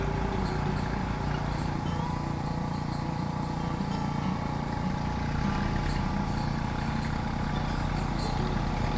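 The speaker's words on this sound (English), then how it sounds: "running the tractor over it like that may firm some of it up for her" A tractor drags shallow blades across the soil surface to level a flower patch, giving a steady, loud engine drone with a continuous grinding rumble and no voices.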